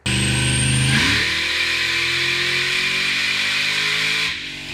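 A loud LS-swapped 1971 Chevy Nova with ladder bar suspension and a Ford 9-inch rear revs sharply once near the start, then settles into a steady, droning high idle that drops off at the end.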